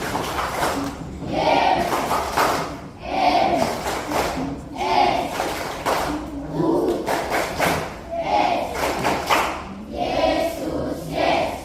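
Primary school children at a First Communion Mass perform the rhythmic 'Jesus clap', chanting together in repeated bursts punctuated by claps and thumps, a loud group pattern recurring roughly every second or two.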